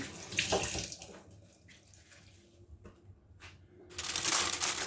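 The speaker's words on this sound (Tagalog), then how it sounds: "Hugas lang ulit ako ng kamay." Hands are washed under a running kitchen tap, splashing water that is loud at the start, drops to quieter trickles and scattered splashes, then surges again at the end.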